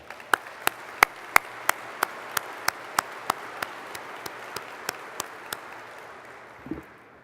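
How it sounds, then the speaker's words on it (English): Applause at the final F-22 production rollout ceremony, where sharp, evenly spaced claps ring out close by over a soft, diffuse wash of audience clapping that slowly fades away. "How about a round of applause for that?"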